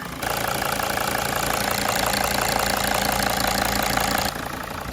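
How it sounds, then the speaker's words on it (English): An OM647 diesel engine idles in a T1N Sprinter van after a cylinder head swap, a steady close rumble with an even knocking tick that holds for several seconds before dropping slightly at the end. "She's smoothing out now. We're gonna let her idle and check for leaks."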